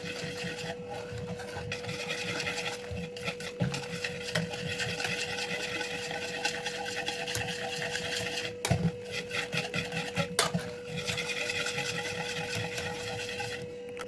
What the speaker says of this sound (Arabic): بعد ما ضفتهم دابا غادي نحركهم، نحاول نحرك الخليط ديالي.